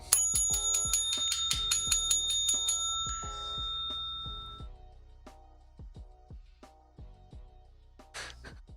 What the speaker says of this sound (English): I'm gonna try to ring this bell and see if someone brings me a beer.